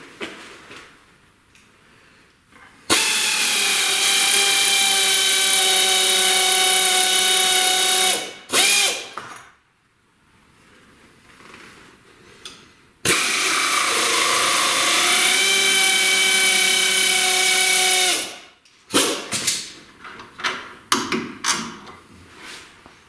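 A power tool drives out the bolts holding the front sway bar on a V8-swapped Chrysler Crossfire in a driveway. Two long, loud, steady whirring bursts of about five seconds each run up close, separated by quieter handling noises.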